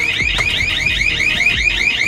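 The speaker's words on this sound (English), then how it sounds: "So when you open this door, pressure will down. Again, this alarm will." A pressure alarm inside a pressurized welding habitat sounds as the door opens, a loud, steady electronic warble that repeats in quick, even pulses throughout, with low thumps underneath.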